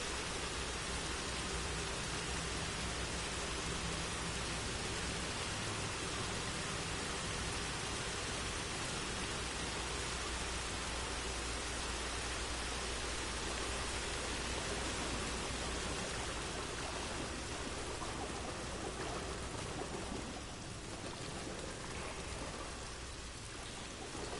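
Steady rain pours down in the video game Star Wars Jedi: Fallen Order, a constant hissing wash of drops with no voices, evenly loud throughout.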